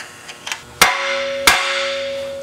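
A hammer strikes a motorhome's tie rod end to break its taper loose: a few light taps lead into two loud, sharp metallic blows, each leaving a ringing tone that hangs and slowly fades.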